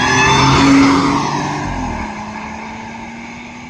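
An Audi A6 with a supercharged 3-liter V6 and an aftermarket intake revs loudly up close, then the engine note drops and settles into a fading, steady drone.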